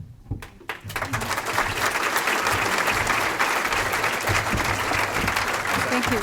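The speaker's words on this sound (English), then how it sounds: "Let's give Delcie a really wonderful round of applause" After a keynote speech at a 2014 banquet, an audience breaks into sustained applause that swells within a second and holds steady, filling the room with dense clapping.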